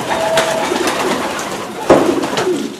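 Racing pigeons coo close by in soft, low, throaty bursts over a busy loft background, with a sharper flutter or call near the end.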